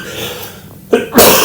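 A single sharp, loud cough or sneeze-like burst, close up, after a brief quiet breath, with no talking.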